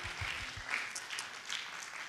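Congregation clapping hands during an Easter Sunday church service, a spread of applause that starts with a few thumping rhythmic claps and settles into steady, moderately distant clapping.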